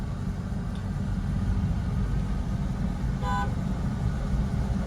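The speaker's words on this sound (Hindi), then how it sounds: "अब इससे हॉर्न बजा के निकाल लो इसको, हॉर्न देके।" A car horn gives a short honk amid steady low traffic rumble on a road while driving.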